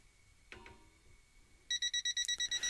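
A rapid series of sharp, high electronic beeps in short pulses from a gas leak detector alarm detecting gas near a stove, loud and close, after a faint click and brief tone.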